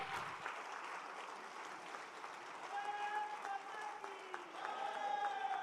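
Applause from the audience at a lecture rally in India fills the room steadily and fairly loudly, with scattered crowd noise and a few faint tonal sounds mixed in over the final seconds.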